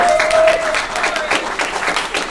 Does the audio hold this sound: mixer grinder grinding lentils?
no